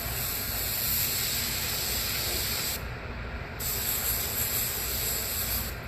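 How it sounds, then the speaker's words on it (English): An airbrush spraying paint onto a person's legs and feet, giving a continuous close hiss that dips briefly partway through and then resumes. "You want to spray the legs and the feet?"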